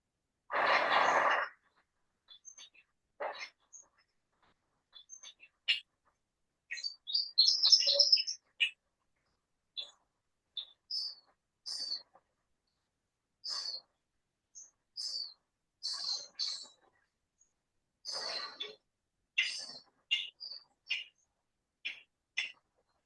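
Northern waterthrush singing in wet woodland: scattered bright, high chirps and short phrases come at irregular intervals over a near-silent background, with one broader rustling burst at the start.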